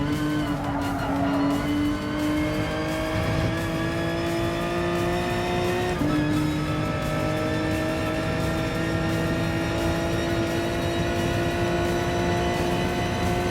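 A race car lapping the Nürburgring Nordschleife in GT Sport, its engine holding a loud, sustained high whine that climbs steadily through the gears, with a brief shift dip midway and no talking.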